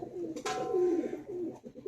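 Madrasi pigeons cooing close by, a warbling coo swelling and fading over about a second after a brief rustle at the start.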